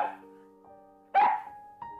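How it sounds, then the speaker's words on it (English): A dog in a garden barks at the sky: one loud, sharp bark stands out, followed by a shorter, softer bark, over steady background tones. "In the garden, Nana looks at the sky and barks."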